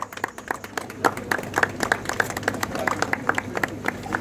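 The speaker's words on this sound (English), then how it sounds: "big round of applause" Audience clapping at an outdoor vintage car fiesta in North Calcutta, a steady round of hand claps with sharp individual claps standing out near and far, under an announcer's voice.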